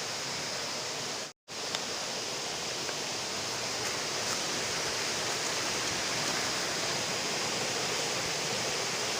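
Water rushing steadily down a small mountain stream in a steep hillside gully, a loud, close, unbroken broadband roar with one brief dropout early on.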